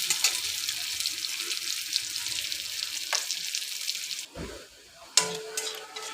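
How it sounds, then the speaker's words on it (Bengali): Chopped onion fries in a pan for a pointed gourd dolma filling, a soft, continuous, close hiss that briefly drops out, followed by a metallic knock before the sizzle resumes. "পেঁয়াজটা আমি ভালো করে লাল লাল করে ভেজে নেব"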